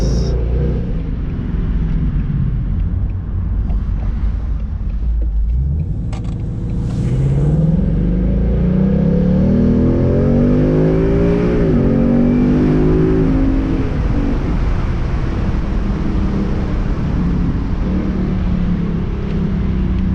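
A Ford Mustang GT convertible accelerating hard, with a loud, deep engine roar that climbs in pitch through the gears, dips at a shift, then keeps rising and holds a steady drone.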